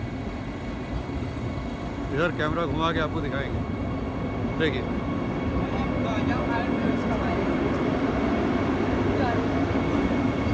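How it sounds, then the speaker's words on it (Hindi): A Vande Bharat Express train pulls out of Banaras railway station on its inaugural morning run, a steady broad rumble of rolling wheels and motors filling the background while someone talks over it near the start. "देखिए ट्रेन चल दी है,"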